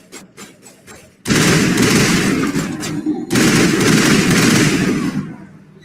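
Gunfire from the video game Mass Effect: a few quick shots, then loud sustained automatic fire with a brief break and a second long burst that trails off.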